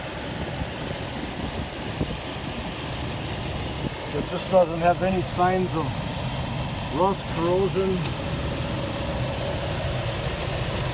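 A 2004 Jeep Wrangler LJ Unlimited engine idles steadily and smoothly in the background throughout, a low continuous hum with someone talking over it.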